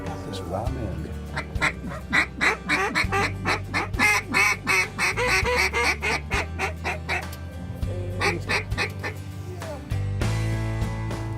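Ducks and geese honk and quack busily at a waterfowl habitat of flooded fields and rest lakes, a dense overlapping chorus of many birds close by, with calls rising and falling continuously over low background tones.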